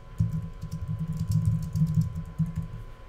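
Rapid, uneven clicking of a computer keyboard as someone types text in Adobe Illustrator, with close, fairly loud keystrokes running almost continuously with brief pauses and no talking.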